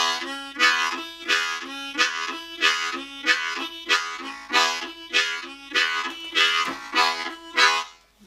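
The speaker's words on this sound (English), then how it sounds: "I'm on an A harmonica today." A Fox Chase country blues groove played on an A harmonica, with rhythmic, evenly pulsing chords repeating about once a second, close and steady, with no talk.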